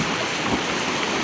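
Sea waves wash against the shore where a tidal surge has damaged a coastal district road in Tanuntung, Herlang, Bulukumba, heard as a steady, close roar of surf mixed with wind buffeting the microphone.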